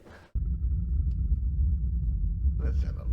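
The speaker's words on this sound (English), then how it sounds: "The thunder." Deep thunder rumbles through a scene in the film Tron Legacy, a sustained low roar that swells in abruptly and holds steady, with a faint tone above and a brief voice at the start and end.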